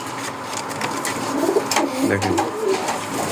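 Domestic deshi pigeons, a male and a female kept at a rural farm, coo in soft repeated low rolls close by, with a brief spoken word partway through.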